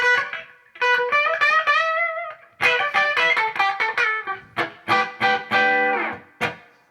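Electric guitar with a Les Paul-like roar, played through a Strymon Flint reverb pedal, a sequence of bright distorted phrases and chord stabs with short gaps, the later notes clipped and punchy, loud and close with no talk.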